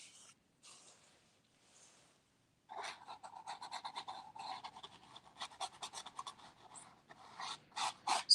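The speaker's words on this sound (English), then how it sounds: "Sorry for the scratching noises." A pencil scratches on paper while drawing outdoors, giving quiet isolated strokes at first and then a dense run of rapid, rhythmic scratching strokes up close.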